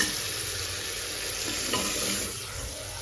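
Momo filling fries with spices in a pan, a steady sizzle with stirring scrapes and no talking.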